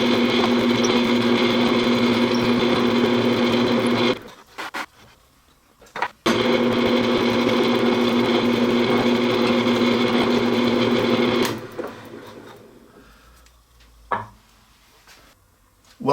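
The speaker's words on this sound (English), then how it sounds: "we're going to take it over to the drill press, and very carefully, we are going to drill" A steady, loud motor whir of a drill press drilling a 1/4-inch through hole in a center marking gauge, running for several seconds, stopping briefly, then running again before winding down with a few clunks.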